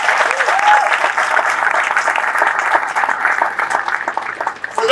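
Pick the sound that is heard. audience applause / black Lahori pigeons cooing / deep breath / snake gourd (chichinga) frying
audience applause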